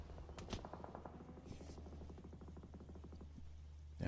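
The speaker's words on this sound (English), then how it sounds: "Yeah, non-stop explosions." Rapid automatic gunfire in a PUBG Mobile match: a steady run of quick, evenly spaced shots at moderate distance, with a couple of sharper bangs near the start and one at the end, fairly faint overall.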